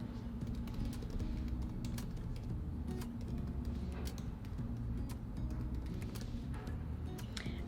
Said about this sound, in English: Type in description